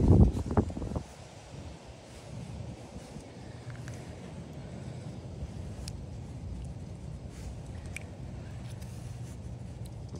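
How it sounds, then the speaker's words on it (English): Wind blows through the woods at a bushcraft cooking camp, a low steady rushing with buffeting on the microphone and faint rustling, following a brief loud knock at the start. "The wind really picked up."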